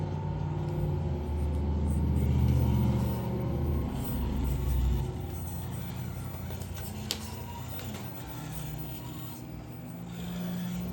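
An RC truck fitted with a 3200kv brushless Predator motor rolls over rough ground, giving a close, low rumbling drive that swells and fades, with a faint whine and brief voice.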